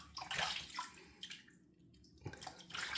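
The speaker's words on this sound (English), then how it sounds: "You can keep putting water on this soap." Water splashing and trickling onto a Mitchell's Wool Fat shaving soap, faint close wet dribbles in two short bursts separated by a quiet gap, no voices.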